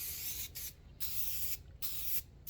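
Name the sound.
spraying Krylon spray paint onto MDF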